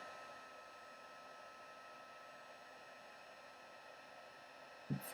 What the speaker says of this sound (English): Heat gun is on number 2.